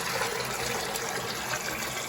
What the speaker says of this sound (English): so let's run the water